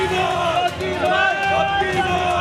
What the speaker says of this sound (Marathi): तर सध्या भाजपचा जल्लोष सुरू आहे आणि शिंदे गटाचा सुद्धा जल्लोष सुरू आहे.